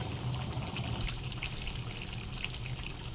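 Water used for washing idli rice is poured out, making a steady trickling splash that runs all the way through, close and moderately loud.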